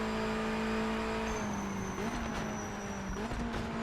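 Race car engine in a racing video game droning steadily, with its pitch dipping and climbing as the car shifts and slows through a corner, with faint tire noise, loud and close, no talking.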